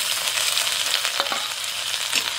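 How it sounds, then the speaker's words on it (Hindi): Steady hiss and crackle of onions frying in mustard oil in a hot pan, continuous and close, with a few faint stirring scrapes and no voices. "यहीं पे प्याज डाल देंगे"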